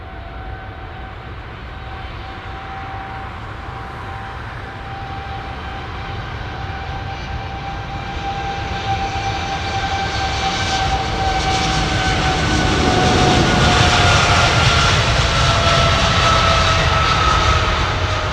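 Airliner jet engines spool up for takeoff at London Heathrow Airport, a loud, steady roar with rising whine tones that builds in intensity and swells near the end, heard alone without voices.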